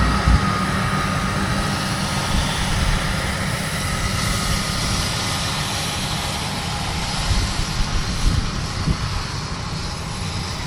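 A tractor pulls a hay rake through a field, its engine a loud, steady drone that continues without break, with no talking.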